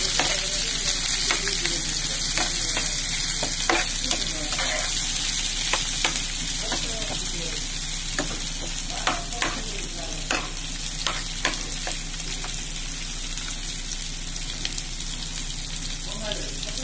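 Greens sizzling in hot oil with browned onion in a pan, a continuous loud frying hiss with frequent pops and stirring clatter throughout.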